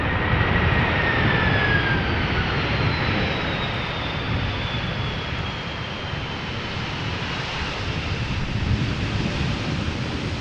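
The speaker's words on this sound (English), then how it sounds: "Just a little bit of reverser, spool up just a little bit so that we hear it" An Airbus A330 airliner lands at Amsterdam Schiphol in gusty crosswinds, giving a loud, broad jet roar that rumbles steadily and eases slightly, with a faint rising whine as the thrust reversers spool up briefly.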